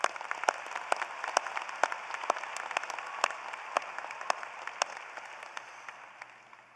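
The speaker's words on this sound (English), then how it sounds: "Let's give them all a round of applause." Scattered applause from a modest crowd at a college commencement ceremony, crisp individual claps, gradually thinning and fading toward the end.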